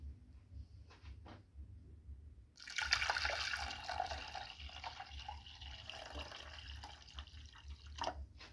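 Water is poured into a pot holding cinnamon and turmeric for a homemade drink, a close, continuous splashing stream lasting several seconds after a few faint knocks.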